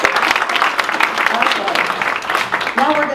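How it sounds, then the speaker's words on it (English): Audience applause at a lecture, a crowd clapping in a dense patter with a person talking over it. "That's worth clapping for"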